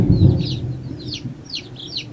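A small white chick with feathered legs gives a quick series of high chirps, close and fairly loud, over a low rumbling background.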